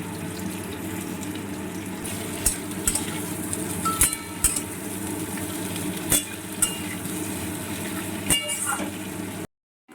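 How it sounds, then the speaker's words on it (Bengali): Potatoes and green chillies stir-fried in a pan for a fish curry, heard as a constant low sizzle with occasional spatula taps and scrapes, close up, ending in a brief silence. "এখন প্রথমে আমি আলুগুলো আর কাঁচা লঙ্কাগুলোকে ভালো করে নাড়াচাড়া করে ভেজে নেব"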